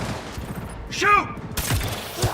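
Sniper rifle shot in Cyberpunk 2077, a sharp broadband crack late in the clip amid busy game combat noise, with a voice chiming briefly in the middle.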